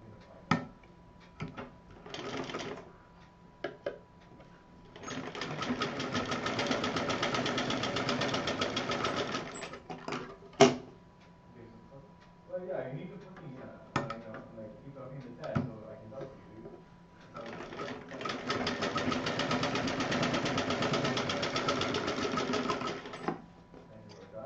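A sewing machine stitches fabric for a stylish handmade purse in two long steady runs, with shorter starts and handling noises between them and a voice speaking in the gaps.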